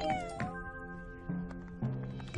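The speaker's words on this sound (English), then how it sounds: "Okay, kittens. You wait right here." Cartoon kittens meowing in a cheerful animated show, with several drawn-out high mews one after another over gentle background music, close and clear with no talking.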